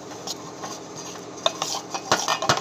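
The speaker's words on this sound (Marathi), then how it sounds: "आणि हे चांगलं हलवून घ्यायचे आपल्याला एका डायरेक्शन मध्ये" Rava dhokla batter with a spoonful of soda just added is stirred in one direction, giving soft scraping swishes and a few light clinks of a spoon against the bowl, close and quiet with no talking.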